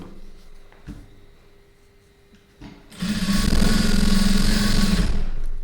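Sewing machine stitching cloth along a square-shaped margin, starting after a few quiet seconds of faint handling and then running in one loud, steady close burst to the end.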